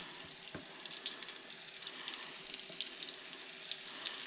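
Catfish pieces sizzle and crackle in a pan of hot oil, a soft, steady frying hiss with scattered pops, heard close but quiet, with no talking.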